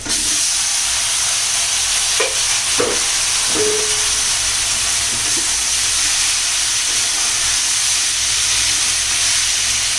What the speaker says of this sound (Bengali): এখন আমি দুই কিলোর মতো টমেটো ঢেলে দিব